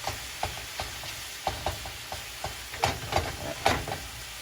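Oxtail sears in a hot pan with a steady sizzle, cut by regular scraping and stirring strokes of a utensil, close and moderately loud, with no voices.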